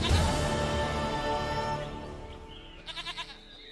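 A goat in The Witcher 3 gives a few short, wavering bleats near the end, heard faintly over a steady musical and ambient game background.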